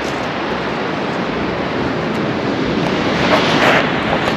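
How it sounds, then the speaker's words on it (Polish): Sea waves breaking along a Baltic beach near a campervan site, a loud, continuous wash of surf with wind buffeting the microphone, swelling slightly toward the end, no voices. "Szum fal nadmorskich to jest coś, co przynosi mi ukojenie."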